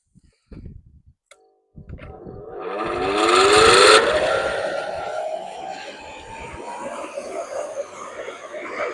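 A powerful three-phase electric motor starts up with a rising whine that climbs in pitch and settles into a steady loud hum, running alone at close range.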